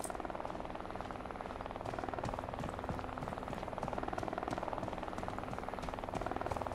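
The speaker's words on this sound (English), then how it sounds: "I've never seen a helicopter." A helicopter in the survival shooter Deadside thumps overhead with a fast, steady rotor chop and a droning engine, continuous and moderately close within the game's mix.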